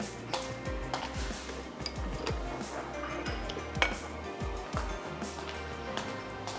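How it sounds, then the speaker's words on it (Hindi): A spoon stirs spicy desi chowmein noodles in a pan, clinking and scraping against the metal in a quick, uneven rhythm of repeated taps, close by and moderately quiet. "मैं 1 अदद और स्पून ले लेती हूँ और नूडल्स को मिक्स कर लेते हैं"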